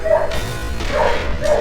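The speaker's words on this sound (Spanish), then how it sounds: "están ladrando los pinches perros" Several dogs barking in bursts nearby, three loud barks spaced over a short moment, heard over game audio during a Metal Gear Solid 3: Snake Eater playthrough.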